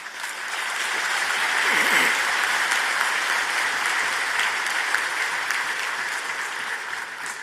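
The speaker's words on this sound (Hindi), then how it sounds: "उसमें तो ताली बजा सकते हैं।" An audience at the Construction Technology India 2019 Expo conference in India bursts into sustained applause, a dense, steady clapping that rises quickly and continues evenly without talk.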